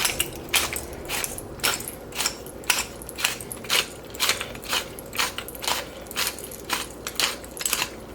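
A pepper mill grinds fresh pepper into soup in a rhythmic series of about fifteen short, crunchy ratcheting twists, evenly spaced, close and fairly quiet, with no talking.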